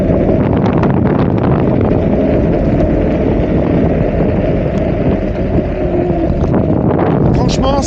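A camping-car speeding up hard from a slipping start, with loud buffeting wind noise and a steady low rumble running throughout, close to the microphone.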